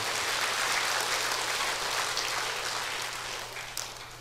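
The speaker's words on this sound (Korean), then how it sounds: "박수 한번 쳐주세요" Audience applause during a Catholic priest's talk at a retreat house, a steady dense patter of clapping that holds for several seconds and slowly fades toward the end, with no voices over it.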